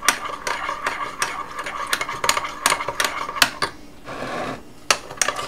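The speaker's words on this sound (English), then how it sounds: "after I've microwaved it, I'm gonna stir it till you see that there are no more lumps" A spoon stirs a microwaved milk and cocoa mixture in a dish, scraping and tapping against the sides in a steady, fairly loud rhythm with brief pauses, close up and with no talking.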